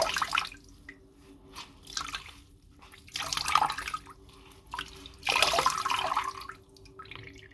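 A folded, soaked knitted garment is pressed by hand, giving wet squelching and dripping bursts in uneven pulses as water is squeezed out, close and fairly quiet.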